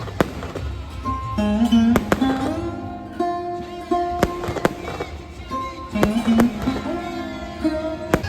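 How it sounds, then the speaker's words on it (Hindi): Fireworks burst overhead in sharp, irregular bangs and crackles over a murmuring crowd at the Jagannath Rath Yatra near Albert Hall in Jaipur, with some voices and tones mixed in. "ऊपर आतिशबाजी हो रही है"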